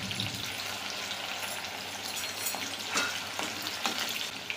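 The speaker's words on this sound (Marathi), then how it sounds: "हाय फ्लेम करून भेंडी पूर्ण आपल्याला तेलात तळून घ्यायची आहे" Okra frying in very hot oil over a high flame, giving a steady, close, dense sizzle with soft crackles and a few louder pops, no voices.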